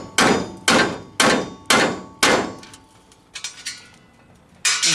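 Hammer blows strike an impact socket set against a metal air cleaner on an S10 pickup build, five evenly spaced loud metallic whacks each ringing briefly, a pause with light tapping, then one more strike.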